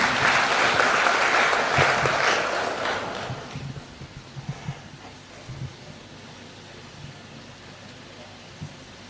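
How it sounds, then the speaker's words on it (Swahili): Audience applause for President Ruto at State House, Nairobi, at the signing of the Affordable Housing Bill: a loud, dense burst of clapping that fades out after about four seconds, leaving scattered faint claps. "Tumpigie Rais makofi kwa hiyo kazi."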